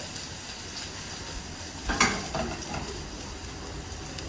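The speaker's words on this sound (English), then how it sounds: "I'm just going to gently put my eggplant in the oil." Eggplant pieces slide into hot oil and fry with a steady, even sizzle, while a single sharp clink of a pan or utensil rings out partway through.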